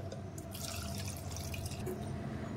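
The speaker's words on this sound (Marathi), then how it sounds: "त्यात नारळ पाणी घालते" Coconut water poured into a mixer jar for a tender coconut shake makes a steady, close splashing trickle that runs without a break.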